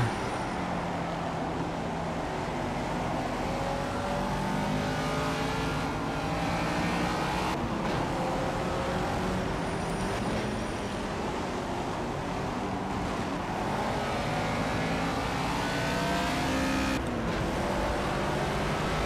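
A race car engine runs in the Project Cars racing game with a steady, loud drone, the pitch rising and falling as the car accelerates and shifts through corners for the whole stretch, with no talking.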